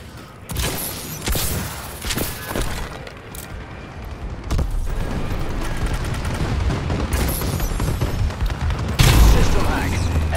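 Explosions from a bombing run in Call of Duty Advanced Warfare: heavy booms and crackling blasts, some with gunfire mixed in, rolling on loud and close for about ten seconds while a voice talks at times.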